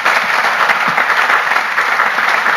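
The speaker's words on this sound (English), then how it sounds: "Give the Lord a clap of somebody" A church congregation at a prayer gathering claps for the Lord, loud continuous applause with dense overlapping hand claps filling the whole stretch.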